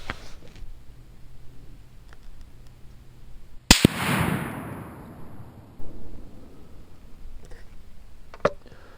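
A single Mossberg Patriot .30-06 rifle fires a Winchester 180-grain Power-Point round outdoors, one sharp loud crack midway followed by a rolling echo that fades, with quiet surroundings before and after.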